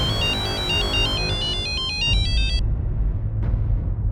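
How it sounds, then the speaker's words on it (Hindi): A mobile phone ringtone plays for an incoming call, a bright repeating electronic melody that loops for a couple of seconds before cutting off, leaving low background hum. "शिंदे का फोन था"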